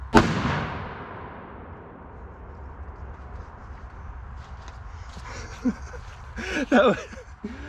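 A TPA salute firework with a pine pitch end plug detonates in one sharp, loud blast right at the start, its echo fading over several seconds before faint voices.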